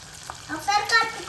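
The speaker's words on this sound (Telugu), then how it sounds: "ఇప్పుడు మటన్ లెగ్స్ లోకి మనము తయారు చేసుకున్న పేస్ట్ వేసుకుందాం." Homemade spice paste dropped onto mutton legs frying in hot oil, giving a brief burst of sizzling and a light scrape lasting just over a second.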